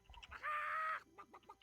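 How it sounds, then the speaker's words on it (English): A chicken clucks in World of Warcraft Classic, a short loud squawk rising out of quieter pecking clucks, heard up close with no talk. "The chicken starts to gobble up the feed you put down."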